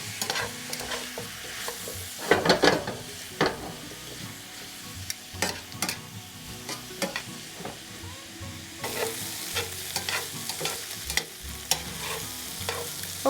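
Onions being stirred and browned in oil for a pot roast, a steady low sizzle broken by frequent sharp scraping and clinking stirring strokes, close up and with no talking.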